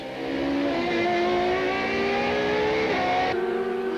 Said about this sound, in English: Better traction out of Goodyear corner from four-wheel drive has brought Moss alongside van der Merwe as they head for the Rothmans S's.